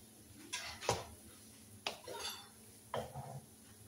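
Boiled dough pockets of pierogi are tipped from a pot onto a plate, giving three separate clattering clinks of metal on dishware with soft sliding and wet thuds between, faint and close in a quiet kitchen.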